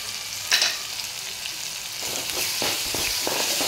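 Turmeric, masala and salt are sautéed in a hot pan, a close continuous sizzle with a sharp scrape early on and a few soft stirring strokes as the hiss grows slightly louder.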